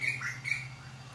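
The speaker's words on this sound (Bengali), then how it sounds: "ব্যাকগ্রাউন্ডে আপনারা পাখির আওয়াজ পাচ্ছেন" Birds calling in the background while a cake is being decorated, a few short squawking chirps early on over a low steady hum, fairly faint, with no speech.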